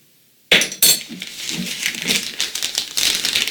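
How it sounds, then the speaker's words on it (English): A fajita marinade of salt and pepper is mixed in a glass bowl, with sharp clinks of a utensil against glass followed by quick, wet whisking and scraping, close and fairly loud. "So now I go ahead and mix this marinade all together."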